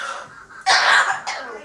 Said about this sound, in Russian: кто так кашляет-то?